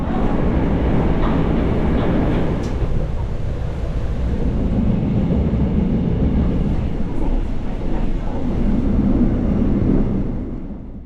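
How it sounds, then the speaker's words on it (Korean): Diesel locomotive train running on rails through Gangwon-do, a loud continuous rumble with faint clicking of the wheels, heard from onboard. "이렇게 디젤 기관차를 사용한다고 합니다"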